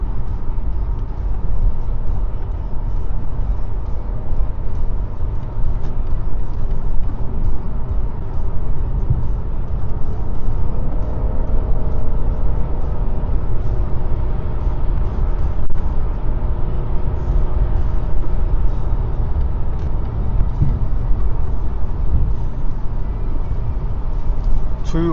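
Steady low road rumble and tyre noise from inside a hybrid car cruising along the road, a constant drone that holds the whole time, with faint voices now and then.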